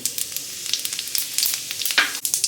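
Whole cumin seeds crackle and sizzle in hot mustard oil in a wok, a dense close crackle with sharp pops and spits scattered throughout.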